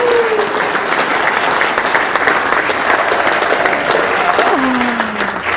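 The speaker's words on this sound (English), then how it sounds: "A nice round of applause." Sustained, loud audience applause for a performer introduced on stage, steady dense clapping from start to finish with a brief voice sliding underneath near the end.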